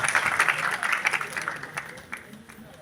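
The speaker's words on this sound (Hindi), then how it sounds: "तालियां यूं ही बजती रहनी चाहिए." An audience at an annual awards festival applauds, a brisk clatter of many hands that fades within a few seconds, with a voice speaking faintly over it.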